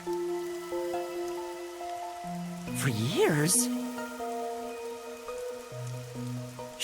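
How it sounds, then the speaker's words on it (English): Steady rain falls in the video game Master Detective Archives: Raincode, a soft continuous patter under background music, with a voice speaking briefly over it. "the rain in our town hasn't stopped falling."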